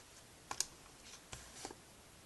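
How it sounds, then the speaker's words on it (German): Calculator keys are pressed to enter numbers, a few light, faint clicks in two small clusters against a quiet background. "Dann tippen wir das im Taschenrechner ein."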